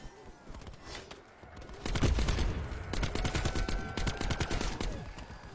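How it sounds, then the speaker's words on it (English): Rapid automatic gunfire in the zombies mode of Call of Duty Black Ops 4, on the Blood of the Dead map, with dense bursts of shots that grow heavier midway, loud and continuous until the weapon runs dry. "Continue shooting! A few more shots, my weapon will fall silent."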